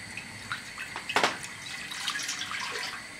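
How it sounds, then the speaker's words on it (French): Water pours and splashes into a container holding soap flakes for homemade laundry detergent, a brief, close sequence of trickles and drips with one sharper splash. "il faut que je mette 1 litre d'eau avec les copeaux de savon"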